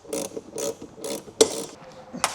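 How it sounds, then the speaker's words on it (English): Ratchet clicking in short bursts as it backs screws out of a motorcycle's outer fairing during a gauge relocation kit install, several separate close, crisp ratcheting runs with brief pauses between them. "remove the 6 screws that hold the outer fairing on"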